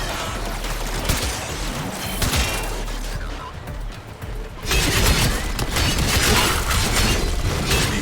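Torpedo launches in the naval video game Call of the Tempestarii, a dense volley of loud crashing, shattering bursts. The barrage eases briefly near the middle, then surges back in a heavier, sustained roar of impacts.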